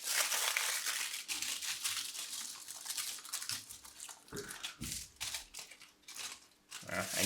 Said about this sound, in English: Add some aluminum foil around